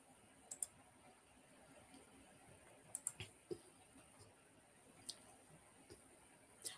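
Sparse keyboard typing during a chat show: a handful of faint, scattered clicks and taps at irregular intervals over a quiet room background, with no talking.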